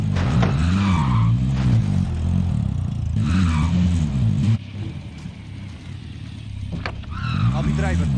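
Vehicle engine noise from Call of Duty Warzone, a game car driving with a steady low drone and brief skidding tire sounds, fairly loud and continuous.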